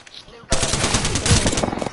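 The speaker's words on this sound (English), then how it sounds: "That's a shotgun." Loud shotgun gunfire from Apex Legends erupts after a brief quiet moment, with heavy blasts continuing densely to the end.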